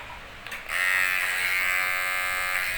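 A Kemei 2713 electric hair trimmer switched on at its lowest speed, starting with a click and then a steady, close, high-pitched motor buzz running alone.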